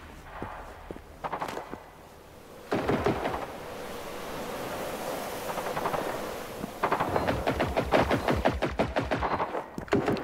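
Bursts of rapid automatic gunfire in the video game Generation Zero: a few scattered shots, then a long rattling volley, a pause, and another sustained loud stream of rapid shots.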